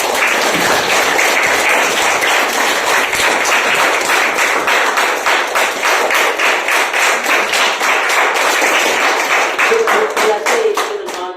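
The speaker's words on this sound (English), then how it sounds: "We'll again give a big round of applause to Luisa." An audience claps steadily for a guest speaker at a student event, a dense, even wash of applause that holds loud for the whole stretch before thinning slightly at the end.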